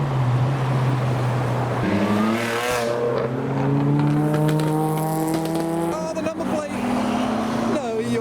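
A Honda S2000 drives past at a Japanese car meet, its engine note rising steadily through the gears, loud and close, with crowd chatter and other modified cars audible around it.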